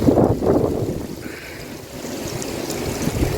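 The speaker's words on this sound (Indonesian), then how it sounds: "lihat di malam ini badai, angin badai kencang sekali guys" A strong stormy wind gusts at night in Jeddah, a loud rushing roar that swells and fades in waves against the microphone.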